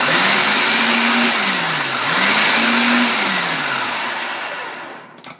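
A food processor mixes sugar and flour for a pie crust, a loud close motor whir that rises and dips in two pulses before winding down, with no talk.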